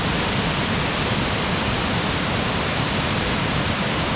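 Water roars down a waterfall in Tallulah Gorge State Park, a loud, constant wash of rushing water with no letup and no voices.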